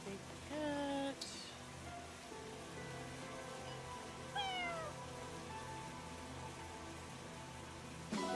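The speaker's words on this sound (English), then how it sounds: "Big cat." A large cat in a video game meows twice, loud and close, with a further fainter meow midway, over a soft steady rain-like background ambience.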